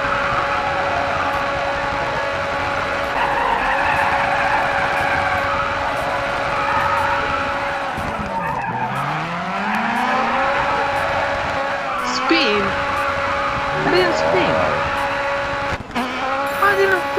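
In the Grid Autosport racing game, a race car spins out with tires squealing and skidding in rising and falling sweeps over a loud, sustained engine drone, while a person talks over it.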